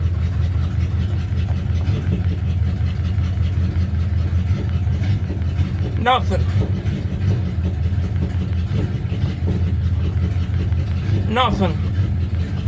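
1979 Dodge Warlock truck engine idling loudly with a steady low rumble throughout, close by, while someone speaks briefly twice over it.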